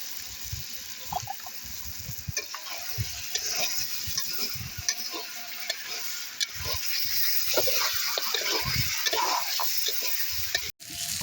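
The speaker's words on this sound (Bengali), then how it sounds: "আমাদের মশলাটা ভালো করে ভাজা ভাজা হয়ে গেছে" Spice paste with whisked yogurt frying in a pan for katla kalia, a bubbling, spattering sizzle with scattered pops and stirring, steady and close throughout.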